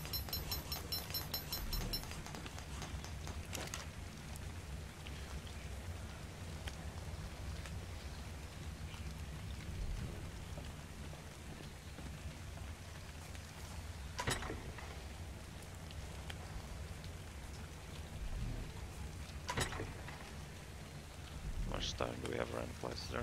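Rain in the survival video game ARK: Survival Evolved makes a steady, soft hiss and patter throughout, with a few brief louder ticks, while players talk over it.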